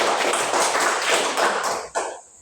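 Brief applause in a classroom for a student, a short round of clapping from a group of pupils that fades out quickly.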